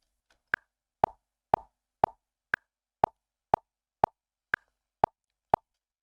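Metronome clicks from REAPER recording software with a modified accent sound tick in a steady, evenly spaced run of about eleven short, crisp pulses, the higher-pitched accent click recurring among lower ones, clear and alone against silence.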